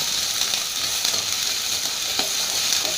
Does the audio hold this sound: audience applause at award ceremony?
no